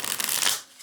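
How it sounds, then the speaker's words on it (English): A tarot card deck is riffled in one quick, soft shuffle, a brief close papery flutter that fades out. "This deck is very easy to shuffle."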